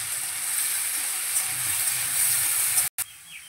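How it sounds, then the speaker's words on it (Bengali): Potatoes sizzle in hot oil in a kadai as they are stirred, a steady broadband hiss of frying that runs close and even, cut off abruptly near the end by a brief silence before resuming. "আলুগুলো এবার তেলের মধ্যে একটু নাড়াচাড়া করে নেব"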